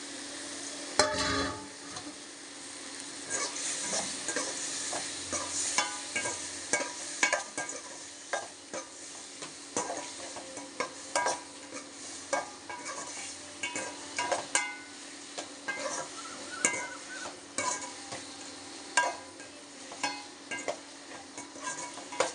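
Cut potatoes fry in oil with a tomato base in a pan, giving a low sizzle beneath repeated spoon scrapes and knocks against the pan at an irregular, fairly steady pace, close and moderately quiet.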